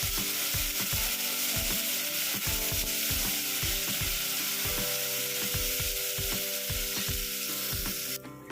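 Onions, dried red chillies, curry leaves and chopped tomatoes sauté in oil, a loud continuous sizzle with regular rhythmic stirring knocks, cut off abruptly at the end.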